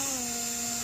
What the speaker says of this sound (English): I put the drill on a pretty low torque setting.